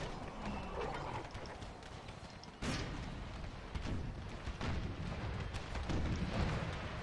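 Artillery firing canister shot in the Empire: Total War game, a sharp boom followed by a busy rumble of distant gunfire and battle noise that continues steadily throughout, with no voices.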